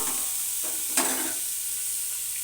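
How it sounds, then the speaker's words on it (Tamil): Coriander and mint being sautéed in a pan for dum biryani, a steady close sizzle with a brief scrape of stirring about a second in, no talking. "சேர்த்து நல்லா வதக்கி விட்டுக்கலாம்"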